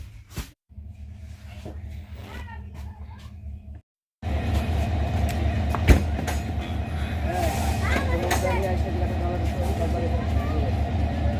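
Kurigram Express train pulling into Kurigram railway station, a loud, continuous rolling rumble with squealing brakes and metallic screeches after a short break at the start, while voices talk over it.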